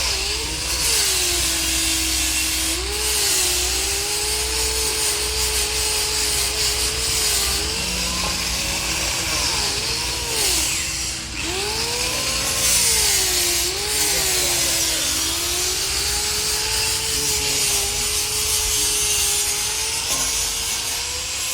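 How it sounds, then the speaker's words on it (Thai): A power polisher buffs an exhaust pipe in a garage workshop, its motor whining continuously and loudly, the pitch swooping up and down as pressure on the metal changes. "กำลังปัดเงาอยู่"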